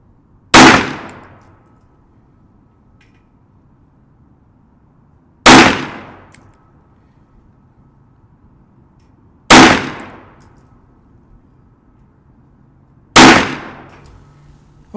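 Four handgun shots fired at a 25-yard range during testing of a pistol with a Vortex Defender-ST micro red dot and a 17-round magazine, each a sharp loud crack with a short decaying tail, spaced several seconds apart with quiet between.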